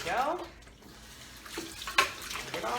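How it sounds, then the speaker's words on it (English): Water bottles are washed under a running kitchen tap in a sink, with water splashing and gurgling in bursts and a few clinks, while a person talks. "I'm gonna get these washed up. These were various water bottles that we used through the week."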